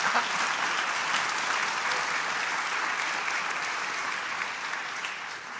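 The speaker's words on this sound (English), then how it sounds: "thank you for the applause" Audience applause at a panel talk fills the whole stretch as a dense, steady roar of many clapping hands, holding even and loud throughout.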